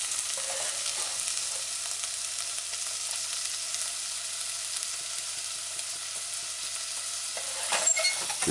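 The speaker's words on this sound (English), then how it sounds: "You add the chopped tomato, stir it in a few times." Chopped tomato is stirred into a broccoli and broad bean stew on the stove, a steady bright sizzle with faint scraping stirs, louder stirring near the end, no talking.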